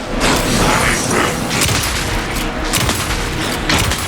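Dense, rapid bursts of gunfire crackle continuously with booming impacts, loud and close, a chaotic firefight in the video game Alan Wake 2.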